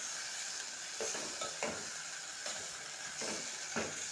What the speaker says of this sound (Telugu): నెక్స్ట్ టమాటా వేసి ఇలా మొత్తం కలిపేయాలి.